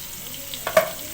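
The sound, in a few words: onions frying with turmeric and salt in a pan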